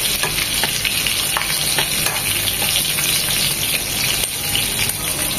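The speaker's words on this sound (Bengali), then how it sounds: "ওই পাশটা 1 মিনিট ভেজে নেব" Hilsa fish fries in hot oil with a dense, continuous sizzle and crackle that stays loud and steady throughout, with no talking.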